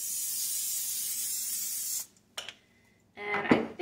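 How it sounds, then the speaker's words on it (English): A steady, loud hissing of cooking spray into a muffin tin runs for about two seconds, then stops; a couple of short bursts and clatter follow, with a final spray near the end. "so I am going to have to spray it."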